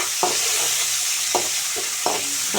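Onions frying in hot oil for a red amaranth stir-fry, a steady dense sizzle throughout with a few soft scrapes of stirring, close and alone without talk.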